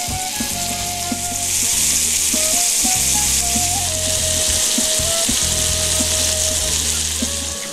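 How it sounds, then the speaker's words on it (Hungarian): Bacon-wrapped green bean bundles frying in hot fat in a pan, a loud, steady sizzle and crackle that runs throughout with a few brief clatters of stirring. "És akkor forró a zsivadékunk a serpenyőbe, ezeket a kis zöldbabrőzséket megpirítjuk."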